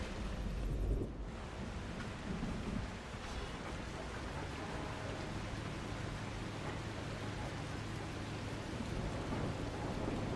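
Heavy thunderstorm with steady, loud rain pouring down throughout and low thunder rumbling underneath, with a stronger burst near the start.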